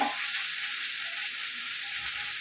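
Chopped onion, a bay leaf and two green chillies fry in white cooking oil, giving a loud, steady, even sizzle that runs unbroken throughout with no talking.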